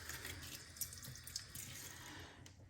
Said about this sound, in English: Cool rinse.